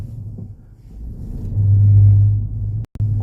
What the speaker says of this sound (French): La voiture, elle freine toute seule.